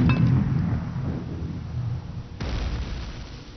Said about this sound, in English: If I shot at it with a grenade,